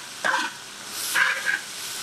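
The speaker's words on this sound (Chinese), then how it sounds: "先倒这个头头炒一下" Garlic sprout stems stir-fried in a hot wok with cured pork belly, dried chilies and Sichuan peppercorns, bursts of sizzling and scraping spatula strokes close by, loud and irregular over a faint background.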